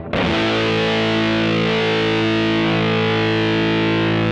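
Electric guitar run through the fuzz mode of a Boss OD200 pedal, a single thick distorted chord struck once and left ringing loud and sustained with a dense buzzy tone.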